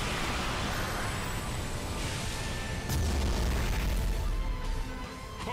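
A Tailed Beast Bomb explosion from a Naruto anime battle, a dense, loud rumbling blast with crackling debris, swelling into a deeper boom partway through before fading slightly.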